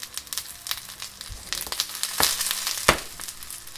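Alu vadi (patra), rolled colocasia leaf slices, fry in a pan with a steady crackling sizzle close by, punctuated by a few sharp pops and scraping stirs.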